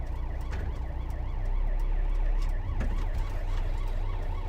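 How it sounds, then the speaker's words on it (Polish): An ambulance siren wails in a steady rising and falling pattern over the low rumble of traffic at an intersection, loud and fairly close, with no voices. "Gdzieś jest karetka, patrzymy, oglądamy się uważnie."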